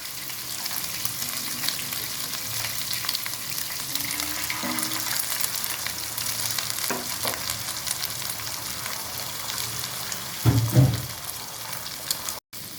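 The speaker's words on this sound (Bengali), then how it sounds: "এবার আমি ডিম ভেজে নেব।" Eggs fry in a kadai while chicken pasta is being made, giving a steady, even sizzle that swells into a louder burst near the end, with no talking.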